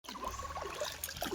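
Tap water trickles and splashes faintly as fresh ginger roots are rinsed by hand, a soft, steady running stream with small irregular spatters.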